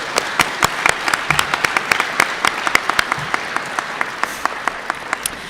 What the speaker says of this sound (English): Can you give us a round of applause for these amazing educators?